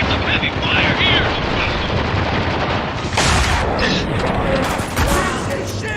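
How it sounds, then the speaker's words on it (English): Heavy gunfire in Spec Ops: The Line, a loud sustained wash of shots and rumbling blasts with sharp bursts toward the end, under a constant roar of combat noise. "We're taking some heavy fire here!"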